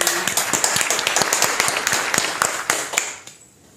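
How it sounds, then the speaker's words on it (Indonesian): Scattered hand claps from a small group, likely classmates, rattle for about three seconds before trailing off into quiet; the clapping is fairly close and uneven rather than a full roar. "mari kita sambut dengan tepuk tangan"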